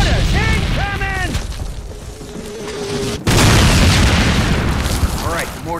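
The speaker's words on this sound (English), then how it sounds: "Mortars! Incoming!" Incoming mortar explosions in the World War II shooter Call of Duty, with a heavy boom cutting in midway and rumbling on, while shouting voices call out over the battle noise.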